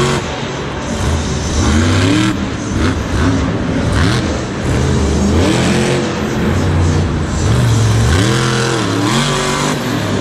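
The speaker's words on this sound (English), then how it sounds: "he is still trying to make something happen with a broken truck and a nice little slap wheelie" A monster truck with a broken engine roars and revs repeatedly at a Monster Jam event in MetLife Stadium, loud and rising and falling in pitch over constant crowd and arena noise.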